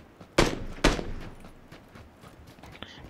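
Two loud, close gunshots crack out in PlayerUnknown's Battlegrounds in quick succession, then fade into quieter game ambience.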